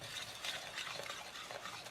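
Honey is stirred into a buffalo wing sauce mixture, a soft, close, continuous swishing and scraping of a utensil through thick liquid in a bowl, fairly quiet and steady throughout.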